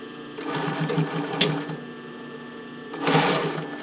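A sewing machine stitches a bra cup overlay close to the edge, running in two bursts with a quieter stretch between them and no talk over it.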